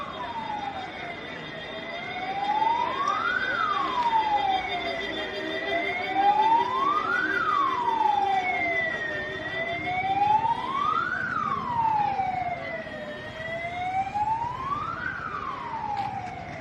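Ambulance siren wailing in a slow, regular rise-and-fall cycle, repeating about four times, loud and fairly close over light street noise, no speech.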